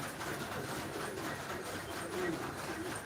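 Pet pigeons kept in a village give soft, low cooing that sits faintly inside a steady wash of outdoor background noise, with no clear separate calls standing out.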